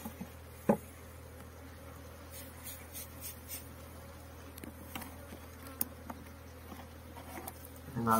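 Honeybees hum faintly and steadily around a hive entrance during an organic varroa-mite treatment, with a few soft taps and knocks over the continuous low drone.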